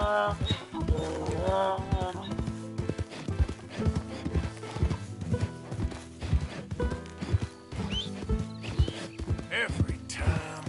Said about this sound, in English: It's just a donkey